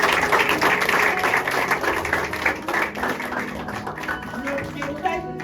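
A church congregation at a family consecration service applauds the Lord, with steady, dense clapping filling the room and a mix of voices and cheers mixed into the applause.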